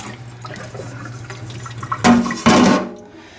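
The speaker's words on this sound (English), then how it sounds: "we'll just get this rinsed off and out of the way" Tap water runs over an antique Plumb hatchet being rinsed in a sink, a soft trickle swelling into two louder bursts of splashing flow before stopping.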